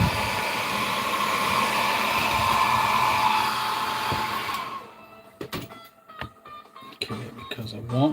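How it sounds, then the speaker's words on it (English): A blow dryer runs steadily and fairly loud for about four and a half seconds, then cuts off, leaving a quieter room with scattered clicks and knocks. "Hit her with the old blow dryer."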